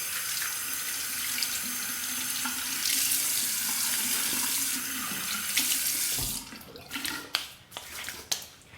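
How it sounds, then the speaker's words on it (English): Tap water runs steadily in a broad, hissing stream for a cold rinse after a shave, then cuts off near the end, leaving a few splashes and drips. "A quick cold water rinse."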